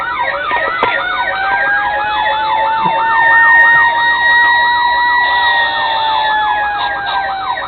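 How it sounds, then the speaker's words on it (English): A toy 1:32 Code 3 diecast FDNY Seagrave Squad 61 fire truck plays a loud electronic siren, its pitch sweeping up and down in a steady repeating wail for several seconds, with no voices. "It'll start with that electronic siren, and then the Federal will kick in, and then also you'll have a mix of air horns"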